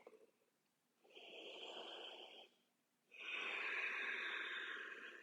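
Two slow, audible breaths during a gentle yoga stretch, a softer airy inhale followed after a brief pause by a longer, louder exhale, close and alone.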